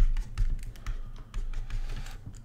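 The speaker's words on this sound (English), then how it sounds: "What you're hearing is the the pencil on the tablet." A pencil stylus taps quickly on a drawing tablet while digital painting in Substance Painter, producing rapid, close, light clicks in an irregular rhythm much like typing.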